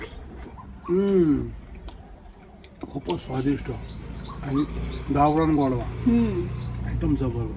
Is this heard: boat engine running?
no